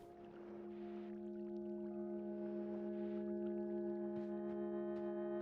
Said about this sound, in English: I heard what sounded like a foghorn.